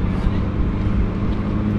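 Traffic on the main road in Neral, Raigad, near the Mumbai–Pune road, a steady low rumble of passing vehicles, close and continuous with no clear pauses.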